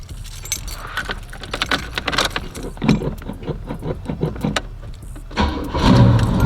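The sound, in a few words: car engine cold start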